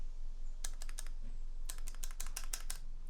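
Close, quiet typing on a KBD67 MKII mechanical keyboard with rattly stabilizers comes in two short bursts of rapid clacking keystrokes separated by a brief pause, over a low steady hum.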